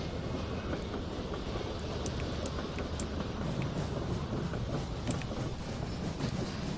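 Train rolling along the track in the Rolling Line video game on the Sierra Logging map, a steady dense rumble with faint clicks and clatter throughout, no talk.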